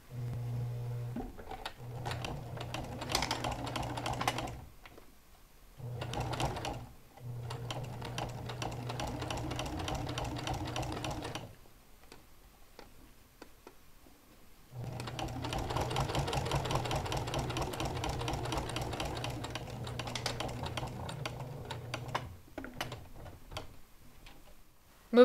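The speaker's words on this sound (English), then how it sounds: "Stitch over final section of binding." A sewing machine stitches the binding on a quilted heart pie potholder, running in steady mechanical bursts with brief stops between sections, close and clear with no talk.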